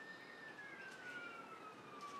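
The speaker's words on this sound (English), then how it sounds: "You can hear the sirens. No, they're not model ones, that's a real one." A real emergency vehicle siren sounds faint and distant, a thin steady wailing tone drifting slowly downward in pitch over a soft background hiss, with no talking.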